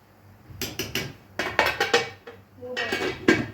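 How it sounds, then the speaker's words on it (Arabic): A duck being turned over in a cooking pot, a few clanks and scrapes of a utensil against the pot in short bursts, close and moderately loud. "هقلب بقى البطايه كده"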